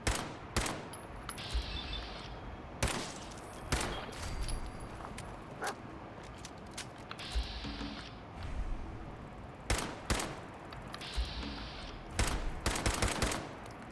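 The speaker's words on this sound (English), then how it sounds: "that is absolutely worth the ammo that I'm burning into them right now" Gunfire from ammo being burned in Fallout 4 survival mode: rapid bursts of shots crackling in repeated volleys, with short pauses between strings of fire.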